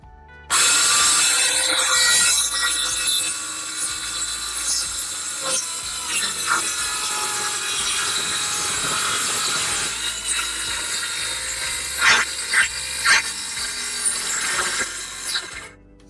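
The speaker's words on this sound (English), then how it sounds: "Right, so here we go, plunge cutting in." A plunge saw cuts into wood for boat companionway doors, a loud continuous whining motor with a harsh rasping bite that holds steady, then grows uneven with a few louder bursts near the end before cutting off, no voices.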